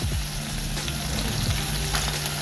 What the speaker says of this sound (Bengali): মাছটা এবার ফ্রাই করব।